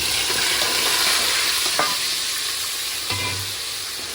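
Onions go into hot oil just after the spices and fry with a loud, dense sizzle for a sundal kurma. A spoon stirs through it, with a couple of brief scrapes. There is no talk.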